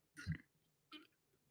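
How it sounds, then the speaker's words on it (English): A man's single belch, loud and close, rising sharply and fading, followed a moment later by a shorter, softer second burp, with quiet room tone between. "No, that burp just came to me."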